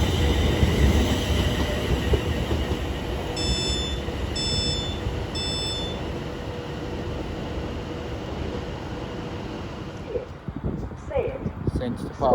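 Class 350 electric train at Milton Keynes Central station on the West Coast Main Line, a steady rumbling run with brief high beeps, then the noise eases away; an announcer's voice speaks over it.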